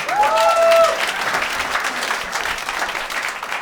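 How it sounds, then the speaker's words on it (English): An audience at a New York City comedy show claps loudly right away, a dense burst of applause that peaks early and then tapers to a lighter, steady patter over a few seconds. "Clap it up for these two."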